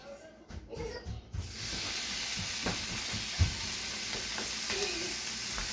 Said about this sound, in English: I'm going to put some bacon strips on the griddle